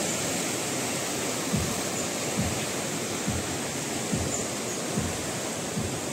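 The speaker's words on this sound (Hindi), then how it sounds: "उफान पे है नदी।" Swollen river in spate at Triveni Ghat, a steady broadband roar of rushing water with periodic low surges, loud and continuous with no talk.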